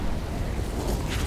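Cartoon storm wind roars steadily and loudly, a dense rushing, buffeting noise, unbroken through the whole moment, with no voices.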